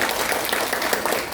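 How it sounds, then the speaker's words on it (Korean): A church congregation applauds during a Sunday worship service to bless an engaged couple, giving a brief burst of dense, even clapping from many hands at moderate volume. "이번 주 토요일 날 결혼 예식하는데 우리 한번 박수로 한번 축복하겠습니다."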